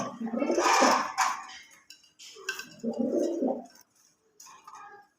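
Pigeons coo in a loft where new pairs are being matched, a few low rolling calls close by with faint clinks between them and quiet gaps toward the end.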